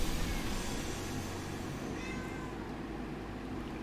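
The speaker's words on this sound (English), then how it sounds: "my cat is meowing at me" A house cat meows at home, a faint voice-like cry half-buried under steady broadband noise and game background sound, with no clear talking.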